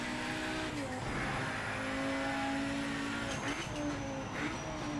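An old-school race car engine in the Project Motor Racing video game revs up and down through gear changes, a loud continuous drone with pitch rising and falling over track noise, no talk.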